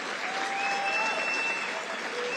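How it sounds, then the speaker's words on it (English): A rally crowd at a Trump campaign event in Mount Pocono, Pennsylvania applauds in a broad, continuous wash of clapping, with faint whistles and cheers rising through it. "Go, you can clap for that."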